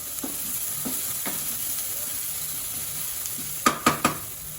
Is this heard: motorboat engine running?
no